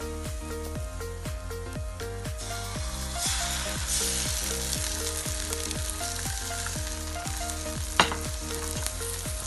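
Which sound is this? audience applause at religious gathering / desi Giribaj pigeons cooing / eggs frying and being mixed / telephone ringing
eggs frying and being mixed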